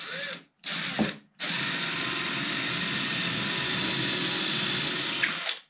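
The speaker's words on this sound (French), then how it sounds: "On a juste à venir piquer entre les deux planches." A power drill bores into the gap between two wooden boards during furniture building, a short burst, a brief pause, then one long steady whirring run up close.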